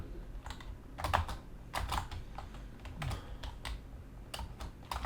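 Keys clatter on a computer keyboard during gaming, with irregular bursts of close, crisp keystrokes, some clustered quickly and others spaced apart, over a faint background hum.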